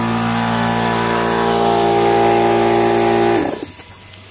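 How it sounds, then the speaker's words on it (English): A loud, steady electric pump powered by an air compressor runs in a DIY pond vacuum rig pulling water up a hose, a constant droning hum that then shuts off and winds down to near silence. "Let me go over here and shut the pump off."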